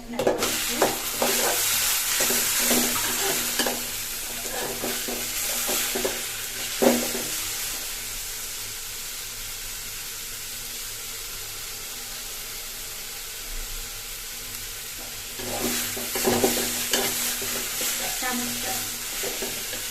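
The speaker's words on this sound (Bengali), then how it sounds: "আমার লাল শাক ভাজি হয়ে গেছে" Red amaranth leaves sizzle and crackle in a pan with onion, with scraping stir strokes early on and again near the end; steady frying noise throughout, no talking.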